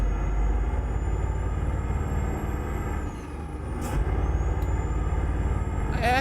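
Default Scania S truck engine in a truck simulator game, a steady loud drone running continuously with a brief dip midway and a faint high whine above.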